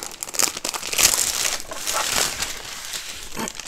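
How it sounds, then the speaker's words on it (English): A plastic bag protecting a diamond painting kit is crinkled and crushed while being opened. The dense crackling rustle is close and continuous, with sharper crackles throughout. "it comes in a plastic bag to protect it"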